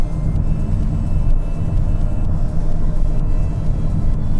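A car engine revs steadily in third gear while its diesel particulate filter regenerates, giving a loud continuous low rumble that holds throughout with small swells and no talk over it.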